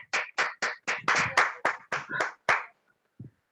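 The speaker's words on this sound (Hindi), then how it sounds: "जोरदार तालियां बजाएं।" A small group of coaches claps loudly in a steady rhythm for a presenter, about ten sharp, close bursts of hand claps, then a pause and one faint thud at the end.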